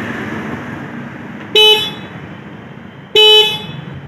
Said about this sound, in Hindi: सिंगल हॉर्न इसमें आपको मिल जाता है जिसका साउंड आप सुन सकते